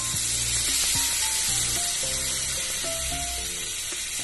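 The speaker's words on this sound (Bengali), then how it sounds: "এবার আমি এই দেখুন সরষার জল গুলে রেখেছি, একে আমাকে একটু উপর থেকে জলটা দিলেও হবে" Mustard water poured into a sizzling mustard fish curry in a hot pan, a steady loud hiss and bubbling with scattered pops and faint clinks, close and continuous with no talking.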